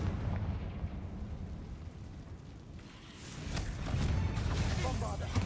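A Confringo blast spell explodes in a Harry Potter video game, a booming burst that rumbles and swells toward the end, with a voice calling out over it.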